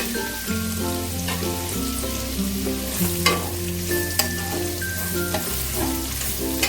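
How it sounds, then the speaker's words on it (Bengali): Chopped garlic fries and is stirred for fried rice, a steady close sizzle with repeated scraping stir strokes throughout, while steady tonal music plays underneath. "রসুনটা একটু ভাজা হবে"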